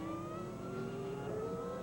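A Ferrari V10 Formula 1 engine screams at steady high revs, its tone climbing slightly as it holds a sustained whine over a continuous roar, heard alone without voices.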